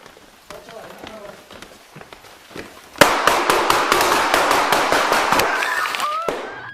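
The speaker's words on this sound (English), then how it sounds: "All three were struck by gunfire." Rapid gunfire erupts during a police shootout on a residential stairway, a sudden loud burst of many close, sharp shots in quick irregular succession after a few seconds of quieter sounds and voices.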